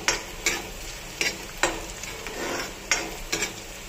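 Onions browning as they sizzle steadily in a pan for dhaba-style paneer while a utensil stirs and scrapes in short, sharp strokes at an irregular rhythm.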